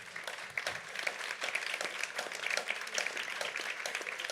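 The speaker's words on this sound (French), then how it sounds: "Peut-être on peut l'applaudir?" A conference audience applauds steadily for the mayor of Nice, Christian Estrosi, with dense, continuous clapping of many hands at moderate loudness, carrying evenly through the whole stretch with no talk on top.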